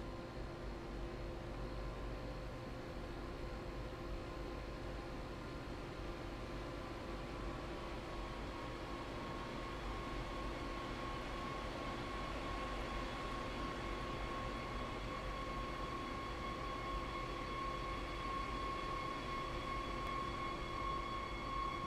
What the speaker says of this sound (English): that train's crossing the signal now